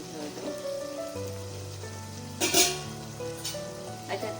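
Cumin powder and spices hit hot oil in a pan while cooking a gavar dhokli dish, giving a steady low sizzle with a brighter crackling burst midway and a smaller flare near the end.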